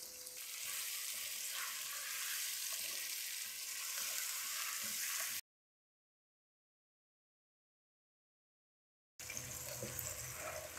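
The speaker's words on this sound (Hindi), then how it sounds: "अब इसे हम तकरीबन 5 मिनट तक अच्छे से हम भूनेंगे मीडियम फ्लेम पे।" Chicken pieces frying in a pan over a medium flame for chicken handi, giving a steady, close hiss and sizzle that cuts out completely for a few seconds, then resumes.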